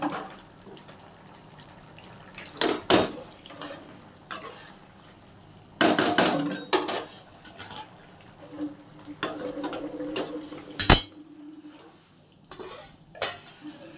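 Pots and utensils clank and scrape at close range while a vegetable curry is stirred and sizzles in a home kitchen, coming in irregular bursts with quieter gaps and no talking.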